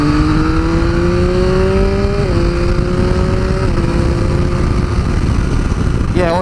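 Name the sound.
2018 Triumph Speed Triple RS motorcycle accelerating on dual carriageway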